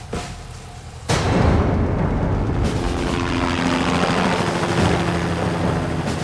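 Helicopters' steady rotor roar swells in after a sharp onset, joined by a low droning hum that holds loud and continuous throughout, amid tanks and gathering soldiers.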